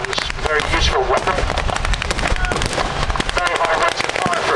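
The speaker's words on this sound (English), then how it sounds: "Very high rates of fire for a machine gun, but firing a 50 cal bullet" A .50 cal machine gun firing during a land battle display at The Victory Show, rapid bursts of sharp loud reports with a voice speaking under the gunfire.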